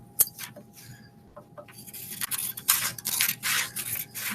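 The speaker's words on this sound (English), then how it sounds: "you're going to take your scissors and actually cut" Scissors snip through paper while a classroom foldable is cut out, a run of close, dry crisp cuts and rustling that gets denser and louder toward the end, with no talking.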